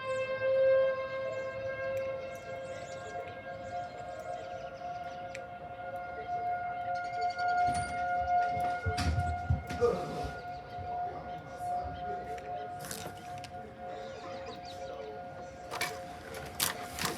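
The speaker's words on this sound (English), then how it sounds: "There goes our sirens." Civil defense sirens sound a tornado warning during a severe thunderstorm in Rock County, Wisconsin, a sustained wailing tone that holds steady for the whole stretch over a low rumble of background noise.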